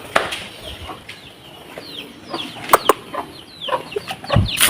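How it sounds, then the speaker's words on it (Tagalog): Native chickens cluck and chatter nearby in short, scattered bursts, with a few sharper squawks and a rustle or flap toward the end. "Mga alagang manok."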